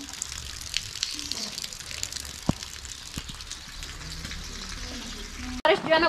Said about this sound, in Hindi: इधर परनालों से थोड़ा थोड़ा पानी जो है ना वो नीचे आ रहा है।